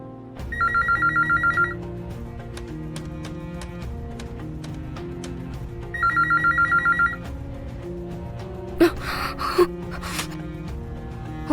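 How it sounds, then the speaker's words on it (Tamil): A hotel telephone rings in repeated double bursts, two ring cycles separated by a long gap, with nobody picking up; background music plays throughout and a couple of sharp thuds follow. "நந்தினி, யாரும் போன் எடுக்க மாட்டேங்கிறாங்க."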